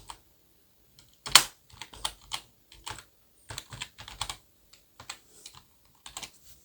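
Password keys tapped on a computer keyboard during an online registration form, irregular bursts of close, crisp clicks with short pauses between groups and one sharper louder keystroke.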